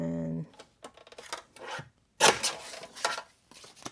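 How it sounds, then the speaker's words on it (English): A paper trimmer slices a card in half, giving a few short, close rasping and scraping strokes after a brief tone at the start, quiet with pauses between. "we're going to use the the trimmer to cut it more precise than by hand"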